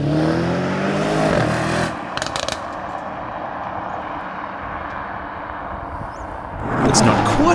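A 2018 Mercedes-AMG E63 S twin-turbo engine roars loudly and steadily, with a rising, harmonic snarl at the start and again near the end around a lower, rougher middle stretch.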